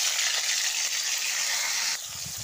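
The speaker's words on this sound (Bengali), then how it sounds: "এখানে আমি করলাগুলো এক এক করে ভেজে নেব।" Bitter gourd (karela) pieces, rubbed with salt and turmeric, sizzle loudly and continuously in hot oil for titor dal. The hiss eases slightly near the end as a few low bubbling pops come through.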